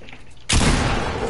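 Gunfire in a shooter video game erupts suddenly after a quieter moment, a loud dense blast of shots that fills the brief stretch.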